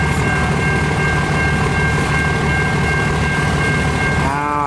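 A CN L533 local freight train rolls north on the line near Range Road by Port Huron, a loud, close, continuous rumble and clatter of cars with a steady high whine running through it.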